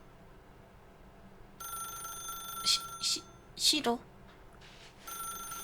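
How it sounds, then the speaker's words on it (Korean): A telephone rings in The Stanley Parable: Ultra Deluxe video game, repeated bright electronic rings in short bursts over a quiet background, with a voice speaking briefly between them. "전화기 소리 듣고 무시하는 게 좀 약간 어색하다"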